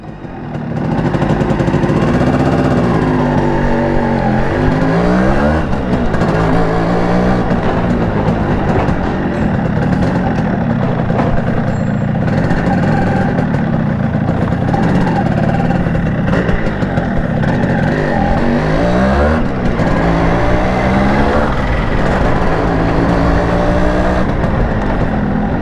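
A 1997 Yamaha RXG motorcycle engine runs loud and close while riding, revving up and down in repeated swells and easing off between, continuous throughout with no voices.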